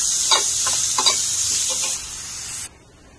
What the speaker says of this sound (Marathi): यातच हे 2 मीडियम साइजचे कांदे बारीक कापून घेतले, ते पण आपण फ्राय करून घ्यायचा आहे।